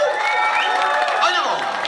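Audience applause and cheering at a 1997 concert in Ottawa by a Bosnian singer, dense and sustained throughout with crowd noise and a voice calling over it.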